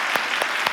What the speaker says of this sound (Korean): 저희 멋진 찬양 올려드린 성가대에게 우리 박수 한번 드릴까요?